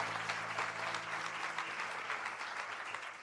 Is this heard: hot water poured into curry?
no